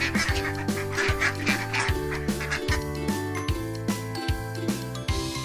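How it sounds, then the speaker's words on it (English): A goose calls in a series of short, repeated honking cries over an upbeat background tune with a bouncing bass line. "This is goose."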